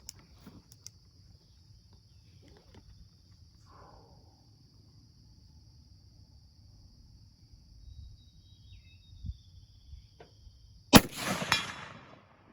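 A .308 Winchester rifle firing a 165 grain bullet gives one loud, sharp crack near the end of the clip. A steady insect-like whine and faint ambient noise run underneath.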